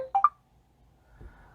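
Brief two-note electronic notification chime previewed on an LG Optimus 3D Max phone, a quick rising blip at the start followed by near silence and faint handling noise.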